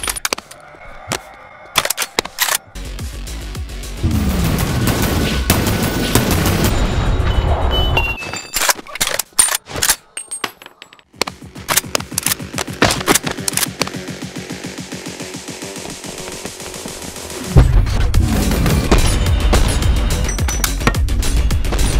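A new gun fired in the modded VR game Boneworks, with sharp loud shots and bursts of rapid fire spread across the clip, mixed with clattering game sounds and mechanical noises, with no talking.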